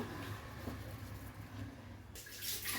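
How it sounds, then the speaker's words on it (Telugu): Water is poured from a glass into a cooking pot for khichdi, running and splashing in a continuous, fairly quiet stream, briefly changing tone near the end. "2 గ్లాసులు పోసిన కాబట్టి 4 గ్లాసుల వాటర్ పోసుకోవాలి"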